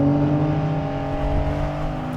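A 2020 Porsche 911 accelerating on the road, a steady, close engine drone with a rising whir heard from inside the car, loud and unbroken throughout.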